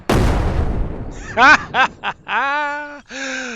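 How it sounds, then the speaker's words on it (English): A grenade launcher round bursts in the zombie survival game SURROUNDEAD, a loud explosive blast that decays over a second, followed by a voice laughing. "you just aim where you want the grenade to go and blow shit up"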